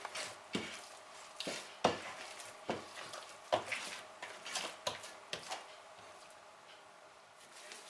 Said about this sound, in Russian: Добавляем в тесто масло растительное постепенно и подмешиваем